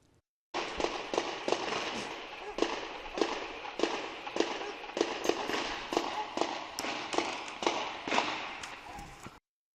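Rapid gunfire exchanged between a bombing suspect and police during a night shootout in Watertown, Boston, dozens of sharp cracking shots in uneven bursts echoing over a constant background roar, heard at a distance.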